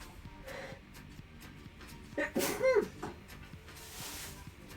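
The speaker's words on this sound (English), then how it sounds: "Oh, I gotta sneeze." One close human sneeze bursts out midway, a sharp breathy blast against a quiet indoor background.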